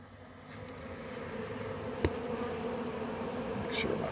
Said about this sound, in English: This allows the bees to come out